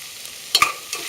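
Onions and peppers sautéing in a pan, a soft steady sizzle broken by a couple of quick scraping clicks from a utensil stirring them.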